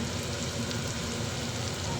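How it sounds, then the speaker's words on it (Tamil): Onions frying in a pan with salt, giving a steady, dense, close sizzle that holds evenly throughout without a break and with no voices. "வெங்காயம் நல்லா வதங்கட்டும்."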